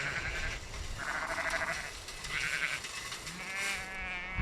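Sheep bleating on a grassy farm field, several drawn-out calls coming one after another at moderate distance over steady outdoor background noise.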